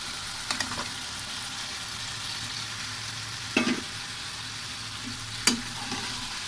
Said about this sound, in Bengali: মরিচ মশলাটাকে ভালোভাবে কষে নিলাম